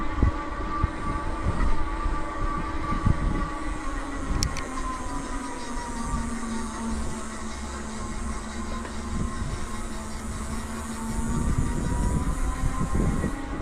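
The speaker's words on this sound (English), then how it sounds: "Again, I'll let you listen to the motor so you can see kind of how that sounds." A Ride1UP electric bike's rear hub motor runs with a steady, close whine over a low rolling rumble, holding an even pitch throughout.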